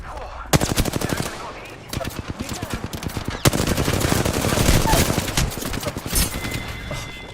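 Rapid automatic gunfire from an Apex Legends match, loud and close, with dense bursts of shots running almost continuously, briefly pausing and then resuming heavier.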